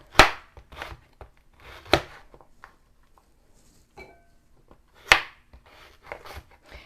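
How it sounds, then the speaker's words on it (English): A knife chops through carrots on a cutting board in a few sharp, crisp thuds spaced about a second or more apart, close and clear, with quieter scraping and tapping between the cuts. "I have 3 carrots here that I'm cutting up"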